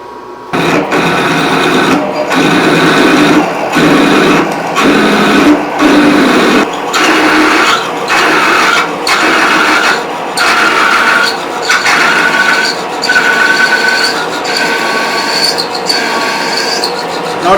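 A metal lathe turning at about 370 RPM machines an internal bushing for a barrel tuner, giving a loud, steady mechanical whir broken by regular clicks and brief cuts as the tool pecks to break the chips.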